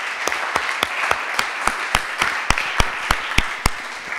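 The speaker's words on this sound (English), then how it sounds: "Special thanks to Donna and her team, and a big applause right now." Steady, rhythmic clapping close by at the end of a city policy conference session, sharp even claps at a brisk regular pace lasting several seconds with no talk over them.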